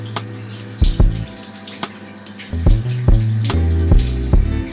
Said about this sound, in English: Let me put some water on my face.